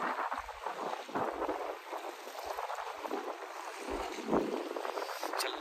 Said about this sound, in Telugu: చాలా గాలి, చాలా గాల్పు వస్తుంది అన్నట్టు.